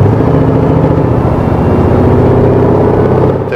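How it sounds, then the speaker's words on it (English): A Jeep Grand Cherokee Trackhawk with a screw-type supercharger accelerates hard, its engine roaring loud and close with a sustained tonal whine layered over the deep exhaust note, building steadily with no talking. "this nice quicking sound from the supercharger. It's a screw type supercharger which they used"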